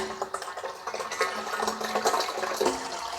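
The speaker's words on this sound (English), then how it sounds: "so I will add another gallon of distilled water" Distilled water pours from a gallon jug into the coolant tank of a BMW 540i G30, a steady splashing, gurgling stream running close and fairly loud for the whole stretch with no talk.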